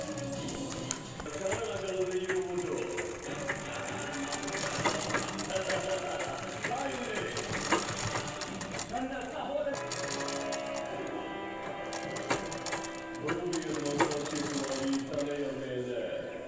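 A sewing machine runs in steady bursts of rapid mechanical stitching as petticoat cloth is sewn, fairly quiet, with a voice talking over it throughout.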